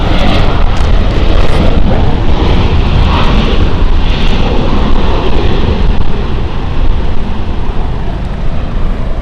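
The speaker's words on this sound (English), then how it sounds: "Probably the most frequent aircraft that I've flown between here and the UK." A jet airliner roars loudly and steadily at Lisbon Airport, a broad continuous rumble with gusty wind noise, heard without talk.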